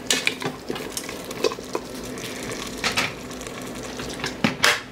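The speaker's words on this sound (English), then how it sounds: "I'm gonna stir it up." Calabaza squash and plant-based beef being stirred in a pan, a spoon scraping and clinking against the metal over a steady low sizzle, with sharper knocks now and then and no talking.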